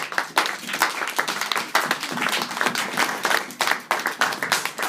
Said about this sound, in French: On peut applaudir pour ces paroles.